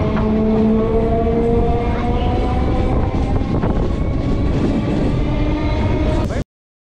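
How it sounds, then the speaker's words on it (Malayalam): Suburban train pulling away from St Thomas Mount railway station, a loud steady rumble of wheels and carriages with rising whining motor tones, continuous until an abrupt cut near the end. "സെന്റ് തോമസ് മൗണ്ട് റെയിൽവേ സ്റ്റേഷനിൽ നിന്ന് നമ്മുടെ ട്രെയിൻ യാത്ര ആരംഭിക്കുകയാണ്."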